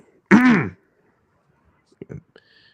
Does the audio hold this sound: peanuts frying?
no